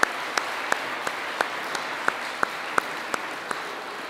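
Parents are applauded by the audience at a Catholic school Christmas concert: a steady wash of many hands clapping fills the whole stretch at moderate level, with a few sharper individual claps standing out.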